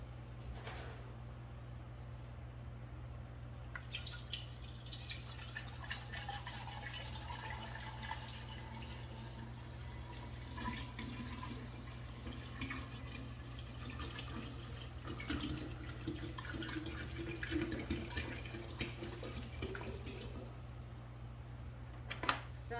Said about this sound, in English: I'm gonna go ahead and get some filtered water into our pitcher